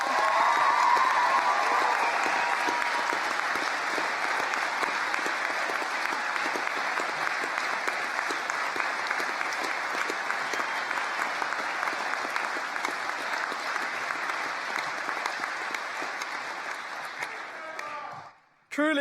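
Applause from the audience at a university graduation ceremony, Anglia Ruskin University, sustained and even for most of the stretch, then fading out before a voice returns at the very end.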